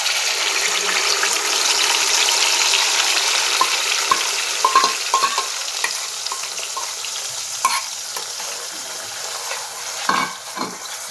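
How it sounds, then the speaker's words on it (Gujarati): Tomato gravy hits a pan of paneer gathiya curry and sizzles loudly and steadily, with occasional spoon scrapes and stirring clatter throughout; no talking. "હવે આપણે આમાં ગ્રેવી એડ કરી દઈશું"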